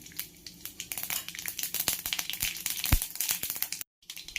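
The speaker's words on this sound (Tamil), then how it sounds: "ஆயில் ஹீட் ஆகிடுச்சு. கடுகு போடுறோம்." Mustard seeds spluttering in hot oil in a pan, a dense run of sharp close pops and crackles, irregular and busy, ending with a brief silence.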